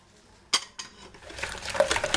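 Sugar and oil being stirred together in a bowl for Tunisian khobz el bey sweet dough, with a few sharp clinks of utensil against the dish, then steady scraping and mixing that grows busier.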